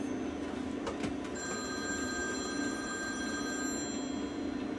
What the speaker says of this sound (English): Oh, phone's ringing.